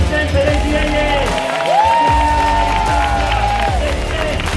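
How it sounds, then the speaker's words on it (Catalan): Spectators at a children's 3 km mountain race in Rialp applaud and cheer before the start, a dense wash of clapping with a whoop rising above the crowd noise. "fort aplaudiment públic assistent per ells i elles"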